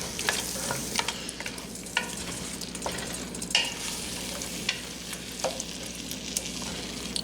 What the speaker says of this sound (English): Let me stir that real good